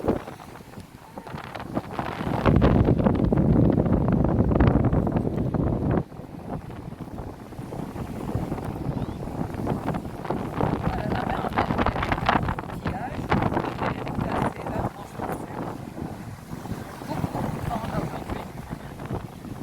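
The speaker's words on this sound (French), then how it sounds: "Il y a beaucoup de vent les filles." Strong gusty wind at Saline-les-Bains beach, Réunion, buffets the microphone in heavy, uneven roars, loudest early on, with people talking faintly underneath.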